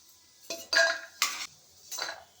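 Fried peanuts are scooped from a pan into a bowl, making three or four close, distinct metallic scrapes and clinks of a spoon against cookware, separated by short quiet gaps.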